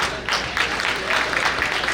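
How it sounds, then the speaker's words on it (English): A brunch crowd gives a round of applause for Zaid, scattered clapping that swells and thins across the moment while voices murmur underneath. "So I think we should give a round of applause to Zaid too."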